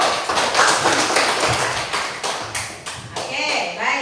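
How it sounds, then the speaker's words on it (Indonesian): A school class claps for a discussion group, giving loud, dense applause of many hands that runs steadily for several seconds with children's voices mixed in. "tepuk tangan untuk kelompok Daud"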